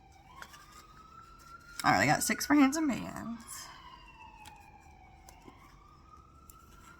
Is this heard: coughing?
no